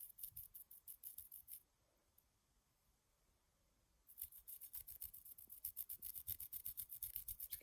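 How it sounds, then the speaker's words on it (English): Paintbrush bristles scrub back and forth over a painted surface in quick, rhythmic strokes, close and faint, with a short pause before the brushing resumes faster. "I'm just going to gently start brushing one way"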